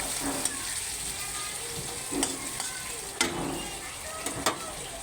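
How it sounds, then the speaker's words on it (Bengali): Onions sizzling in a hot pan for an egg curry, a continuous frying hiss broken by several sharp spatula scrapes and taps as they are stirred. "পেঁয়াজটা দিয়ে দিলাম, পেঁয়াজটাকে একটু ফ্রাই করব।"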